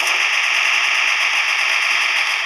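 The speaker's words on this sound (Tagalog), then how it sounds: "Automatic na bumabaril" Automatic gunfire in the Special Force 2 video game, a rapid unbroken stream of shots, loud and close with no pauses.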